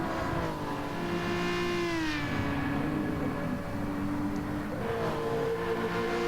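A race car in Gran Turismo 7 heads downhill into a chicane, its engine note droning steadily and sliding down in pitch as it brakes, then climbing again, heard alone and fairly quietly.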